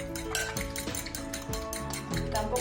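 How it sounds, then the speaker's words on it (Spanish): A utensil clatters and scrapes rhythmically against a bowl, quick repeated strokes of hand whisking frixuelo batter with no talking. "Ahora vamos a batir un migallín."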